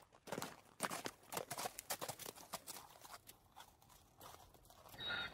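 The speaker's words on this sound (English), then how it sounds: "Oh, it came by donkey." Donkey hooves clip-clop in a quick, even run of sharp hollow knocks, close and clear, slowing and thinning toward the end as the animal arrives.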